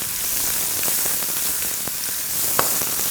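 Chopped garlic and one onion sizzle in a hot pan for tteokbokki, a steady crackling fry with faint scrapes of stirring and a few sharper pops.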